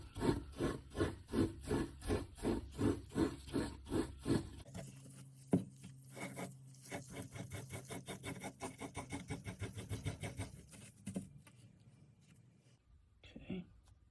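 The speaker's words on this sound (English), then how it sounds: "we use our steel wool. Try and get the rest of the rust off." Steel wool scrubs rust off an old file in steady rhythmic back-and-forth rasping strokes heard up close, first slower and heavier, then quicker and lighter before the rubbing fades out.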